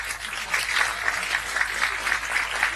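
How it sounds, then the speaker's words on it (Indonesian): Audience applause at an Indonesian gathering, a steady wash of clapping at moderate level with irregular swells, continuing alone without voices. "Tepuk tangan untuk mereka."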